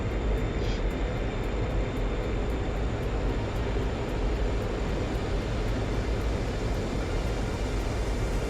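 A MiG-21 jet engine in flight in a video game: a loud, continuous roar of broadband engine noise, steady throughout with no talk.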